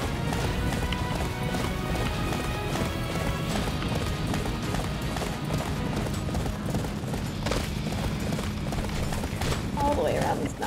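Horses galloping in the Attack on Titan video game, a dense continuous thunder of hooves running throughout, loud and steady, blended with game effects.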